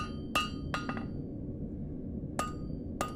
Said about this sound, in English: I'm going to hit it with lighter blows at the end to take all the hammer marks out of it.